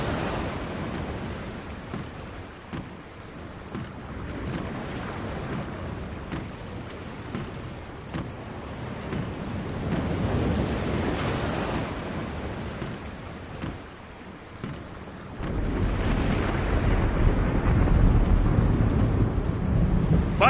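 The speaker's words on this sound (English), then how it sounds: "The storm is closing in." Stormy weather at sea in The Longest Journey, the chaos storm: a steady roar of wind, rain and surf, swelling louder and heavier toward the end, with no speech.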